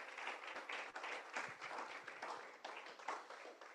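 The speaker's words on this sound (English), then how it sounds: "Another round of applause for Lindsay." Conference audience applauding a speaker at a climate event in Africa, a dense, steady wash of many hands clapping close by for the full few seconds, with no talk over it.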